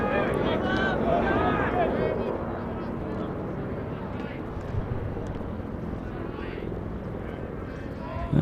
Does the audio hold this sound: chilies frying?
no